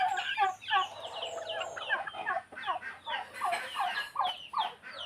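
Turkeys gobble and baby chickens cluck in a busy, overlapping chorus of calls, fairly close and steady throughout.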